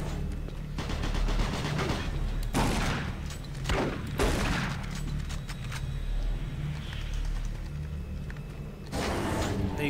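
Rapid bursts of Doom 3 gunfire crack out in clusters over a steady background hum, loud and close, with no speech.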